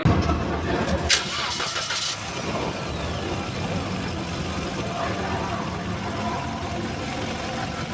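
The 1.4 engine of an automatic 2013 Suzuki Swift GX cranks briefly and catches, then settles into a smooth, steady idle heard close up from inside the car.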